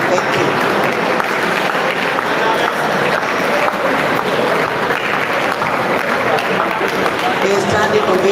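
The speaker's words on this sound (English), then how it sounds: "Please keep clapping till he gets here." An audience at a college event gives a standing ovation for the provost, a dense, continuous wash of applause and crowd noise held at steady loudness throughout, with some voices mixed in.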